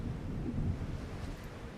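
Low rolling thunder from an approaching storm, a steady dull rumble with wind-like noise throughout, continuous and moderately loud.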